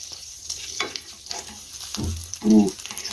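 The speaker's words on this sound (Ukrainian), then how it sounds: "А котлетки, мабуть, підсмажились." Cutlets fry in a pan on the stove with a soft, steady sizzle and occasional stirring clicks, ending in a louder burst of crackle near the close; no one speaks.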